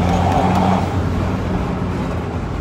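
A car with a modified exhaust line runs loud and close, with a strong low engine drone that swells briefly early on and then settles into a steady rumble.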